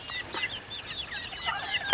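A hen clucks and squawks in quick, agitated bursts while being handled for wing clipping, fairly close and steady over a quiet outdoor background.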